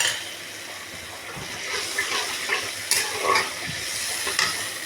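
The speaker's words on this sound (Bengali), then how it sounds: "আমি জলটা ঢেলে দিলাম।" Water from a rinsed spice bowl poured into fried spice paste in a pan while cooking a curry of pumpkin stems, potato and lentil fritters, giving a steady hiss and sizzle with a few faint stirring scrapes, close and continuous.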